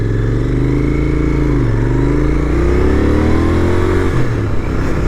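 A Royal Enfield Continental GT650 motorcycle engine revs close by with a deep twin-cylinder rumble, rising and falling in pitch through a couple of throttle swells.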